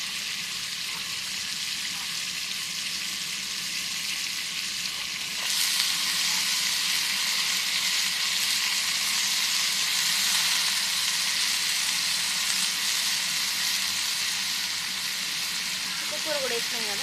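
Chicken frying with sorrel leaves (chukkakura) in a pan, a steady broad sizzle that swells louder partway through as the greens go in and are stirred, with faint talk underneath.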